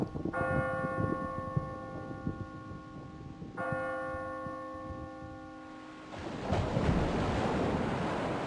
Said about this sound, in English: Bells.